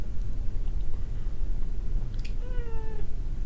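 A pet cat gives a single short meow near the end, faint against a steady background hiss, with no talk.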